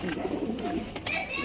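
Mixed Giribaz and Gola pigeons coo softly in a low, rolling murmur, with a person's voice talking over them and a couple of brief clicks.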